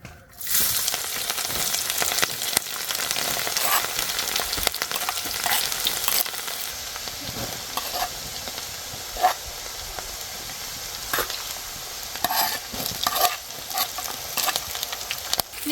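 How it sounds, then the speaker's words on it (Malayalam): Chopped garlic, ginger and green chilli sautéing in sesame oil, a loud continuous sizzle with occasional scraping stirs and utensil knocks against the pan, no talking. "വെളുത്തുള്ളി ഇഞ്ചിയും പച്ചമുളകും ഇതുണ്ടോ അരിഞ്ഞു വെച്ചേക്കുന്നത് ഇതിനകത്തിട്ടൊന്ന് വഴറ്റാം"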